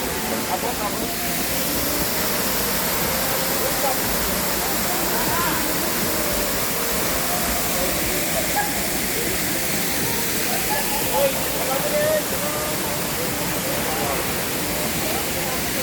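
Balagbag Falls roars steadily nearby, a dense, even rush of falling water with little variation, masking any other sounds.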